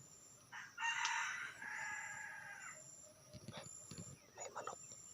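A wild junglefowl crows in a forest, one drawn-out call rising and holding for about two seconds at mid distance, followed by a shorter trailing crow, over steady insect hum with faint rustling and no talk.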